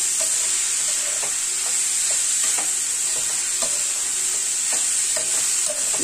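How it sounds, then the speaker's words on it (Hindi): Grated turnip bhurji frying in a pan with a little refined oil gives off a steady, loud, close sizzle, with soft clicks and scrapes of stirring scattered throughout. "अब ये भून जाएगा थोड़ा"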